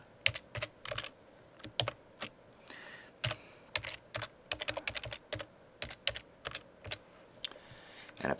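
Someone types a username on a computer keyboard: irregular bursts of crisp key clicks, near and clear, with short pauses between runs of keystrokes.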